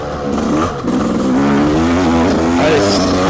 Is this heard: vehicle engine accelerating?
yes